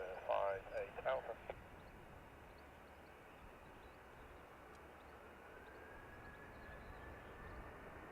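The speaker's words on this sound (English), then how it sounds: "Blue Islands next in from Jersey, ATR." A Blue Islands ATR turboprop airliner arriving from Jersey on landing at Dublin Airport, heard as a faint, distant, steady engine drone after a brief burst of voices at the start.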